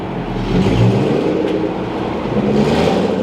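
A straight-piped Ford GT engine revs hard nearby, a loud continuous roar that swells and dips across the moment, with no talking.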